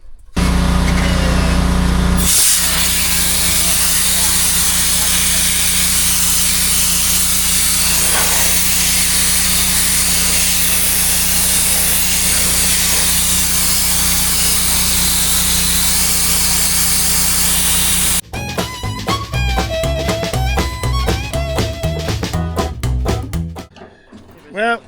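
Power tools strip paint from an old Volkswagen Beetle, a loud continuous grinding whir that runs steadily for a long stretch, then breaks into choppier scraping and bursts toward the end.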